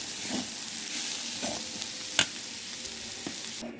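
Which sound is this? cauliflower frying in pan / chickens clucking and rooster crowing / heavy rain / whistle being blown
cauliflower frying in pan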